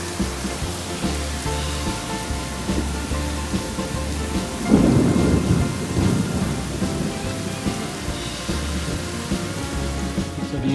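Heavy spring thunderstorm over a Texas backyard with a pool: steady rain pours onto surfaces while thunder rumbles, swelling to a loud roll around the middle before easing back to constant downpour.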